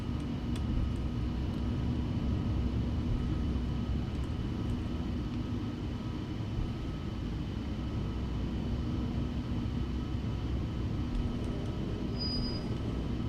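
Boeing 737-800 in a flight simulator, rolling down the runway: a steady, continuous engine roar with a low rumble holds at an even level throughout, with no talk over it.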